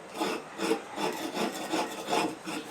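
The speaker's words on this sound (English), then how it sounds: "using a broken piece of steak knife, the edge, and using the thin edge, and just scraping" The thin edge of a broken steak knife scrapes a cement candle holder in a steady, rhythmic series of close, gritty rasping strokes, about two per second.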